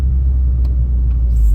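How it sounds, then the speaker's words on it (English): A 2022 Subaru WRX drives on a hot Texas road, giving a steady, loud low rumble of engine and road noise from inside the cabin, with no talk. "Driving the 2022 Subaru WRX in Texas"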